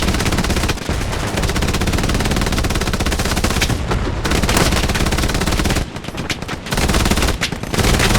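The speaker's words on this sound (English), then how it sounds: "Use the machine gun for a second." Sustained machine gun fire in the World War II shooter Hell Let Loose, loud dense bursts running nearly continuously with a few short breaks, no talking.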